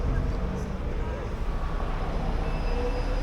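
A train at a Berlin railway station, a continuous low rumble and rolling hum with faint high squeal, steady and fairly loud, with some voices mixed in.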